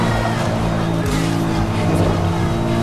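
A BMW races in Need for Speed Most Wanted, its engine droning loudly and continuously with rising and falling tones and brief tire squeal, close and dominant with a voice faintly underneath.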